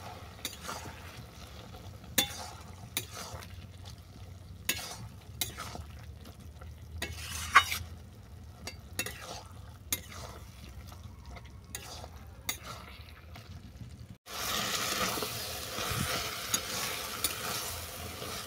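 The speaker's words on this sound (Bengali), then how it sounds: "এরপর কচু শাকটাকে এই মশলার সঙ্গে ভালো করে কষিয়ে নিচ্ছি।" Taro leaves with prawns being stirred and fried in spice paste in a pan: a steady low sizzle under repeated sharp spatula scrapes and taps, then a louder, brighter hiss swells near the end.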